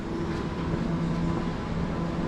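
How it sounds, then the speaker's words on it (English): A Class 710 electric train at Barking station gives off a steady low rumble and hum at moderate distance, alone with no voices. "This train here, it's a 710."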